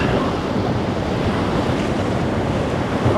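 Rapids on the Wenatchee River, class 3 whitewater, churn and crash around a raft in a loud, dense, continuous roar with wind buffeting the microphone.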